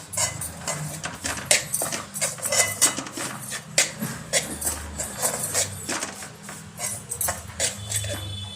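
Semolina roasting in ghee is stirred in a metal pan, giving a steady run of scraping and clinking strokes from a spoon against the pan, close and fairly loud, with no talking.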